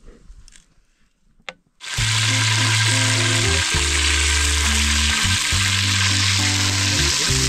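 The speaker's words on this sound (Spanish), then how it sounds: "Entonces, esta vez vamos a freírlo en la ollita." Food dropped into hot oil in a small pot, with quiet handling noises before a sudden loud, close burst of frying that keeps sizzling and crackling steadily without talk.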